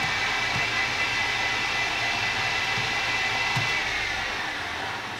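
A BF20 CNC mill spindle runs counterclockwise in a shop, a constant close whirring hum with faint tonal whine and a few soft clicks, no speech.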